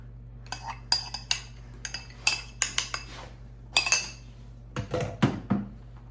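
Cinnamon topping mixed with utensils in a bowl for blueberry coffee cake: a series of sharp metallic clinks and scrapes against the bowl in irregular bursts, close and fairly clear over a low steady hum.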